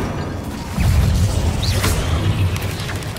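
A fire spell cast in the Hogwarts Legacy video game erupts as a deep boom followed by a sustained rumbling, crackling whoosh that lasts for a few seconds.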